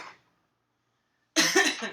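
One person coughs in a single harsh, close burst near the end, after near silence.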